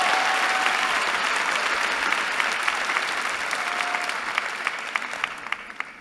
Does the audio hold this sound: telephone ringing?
no